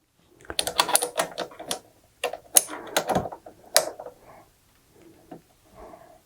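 A Cricut cutting machine with a fine point blade slices through cardstock, giving a close run of quick mechanical clicks and whirring bursts in uneven clusters, louder at first and then tapering to softer, sparse movements.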